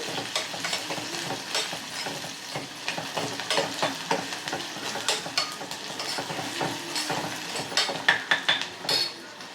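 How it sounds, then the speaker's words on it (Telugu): Onions and green chillies frying in a pan with curry leaves and turmeric, a close sizzle broken by repeated scraping stirs and metal clinks of a spoon against the pan, with a quick flurry of strokes near the end. "గోల్డెన్ కలర్ వచ్చేంత వరకు మగ్గనివ్వాలి"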